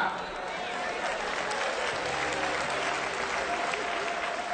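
Sustained audience applause during a church sermon on mentoring and succession, steady and fairly loud throughout with possible voices mixed in.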